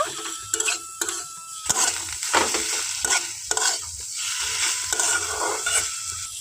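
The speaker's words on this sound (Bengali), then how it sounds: "এই রসুনের মধ্যে এখন দিয়ে দিচ্ছি কিছুটা পেঁয়াজ পেঁয়াজটাকে ও খুব ভালোভাবে ভেজে নেব" Chopped onion frying with garlic in a pan for a Bengali puti fish vhorta, a steady close sizzle broken by repeated scraping and clattering stirs, with no voice over it.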